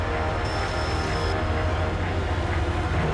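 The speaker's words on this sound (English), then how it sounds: "The train is literally pulling away" A train pulling away in the video game Hitman Absolution, a steady low rumbling drone of rolling carriages with a faint high whine, continuous and even throughout.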